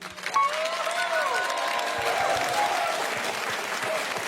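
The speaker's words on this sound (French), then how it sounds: "Ça s'applaudit s'il vous plaît, merci beaucoup." An audience applauds after a live piano-and-vocal performance of a song, dense clapping continuing steadily throughout while faint tonal sounds linger at the start.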